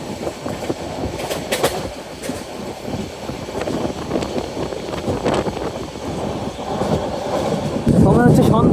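From aboard the Cox's Bazar Express passing through Kasba in the evening, a steady loud rolling rumble with recurring clicks from the rails, swelling near the end with a short wheel squeal.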